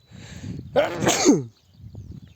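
A single close, loud human sneeze bursts out in the middle, set against quiet outdoor background noise from a pumpkin field where weeding with a rotary tiller is under way.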